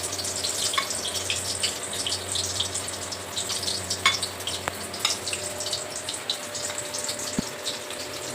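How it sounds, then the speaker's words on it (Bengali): Battered corn dropped into hot oil on a medium flame, giving a steady soft sizzle and bubbling hiss with faint clinks throughout, no talking. "এটা কোটিং হয়ে গেলে এবার আমরা তেলে ছাড়বো এটাকে।"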